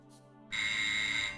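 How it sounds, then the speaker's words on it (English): Shop door buzzer in the 1994 DOS game Noctropolis, a harsh, steady electronic buzz that kicks in abruptly after a quiet moment and holds loud for about a second before easing off. "The irritable pitch of your shop's door buzzer mercifully awakes you from the disturbing vision."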